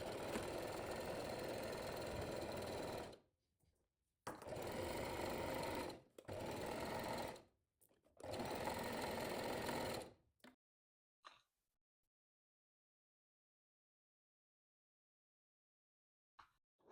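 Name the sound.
sewing machine sewing a straight stitch seam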